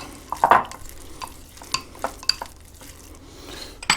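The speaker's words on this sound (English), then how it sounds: "Put the cornstarch in there. I'm going to mix it up." A spoon stirs cornstarch into soup ingredients in a bowl, with short scraping strokes and sharp clinks of metal on the dish in an uneven rhythm, close and fairly loud.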